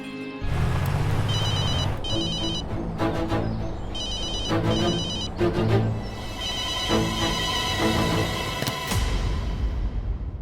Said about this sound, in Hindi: फोन कर रहा हूं तुम्हें, प्लीज उठाओ।